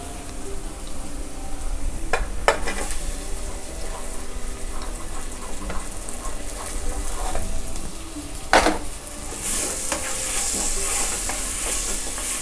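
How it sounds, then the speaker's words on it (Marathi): Chopped onion fries with masala in a hot pan over high flame, a continuous close sizzle with occasional stirring scrapes and a brighter hiss swelling near the end. "कांदा आपल्याला व्यवस्थित चांगला परतून घ्यायचा आहे, थोडासा ब्राऊन होईपर्यंत"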